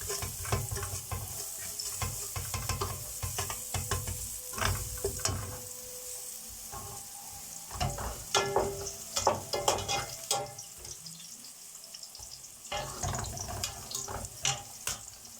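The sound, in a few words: garlic frying in oil with eggplant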